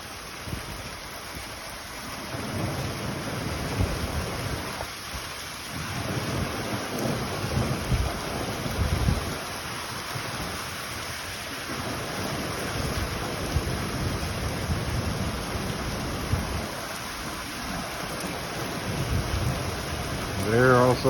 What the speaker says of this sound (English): We have a really bad storm coming this way now.